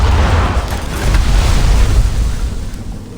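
A torpedo striking a World War Two era ship in a submarine scene, heard as a heavy continuous low boom and rumbling roar of water that swells and holds loudly throughout, with no voices.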